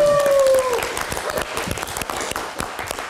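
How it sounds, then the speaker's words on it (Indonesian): Brief burst of audience clapping at a live talk-show event in Indonesia, scattered claps under a host's voice, fading quickly. "tepuk tangan dong untuk Mas Ruby."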